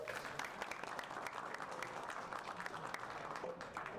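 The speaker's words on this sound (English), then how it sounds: "Please give our panel a round of applause." A conference audience applauds a panel at an advanced autonomy event, with steady, continuous clapping throughout.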